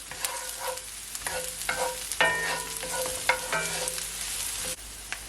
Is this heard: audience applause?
no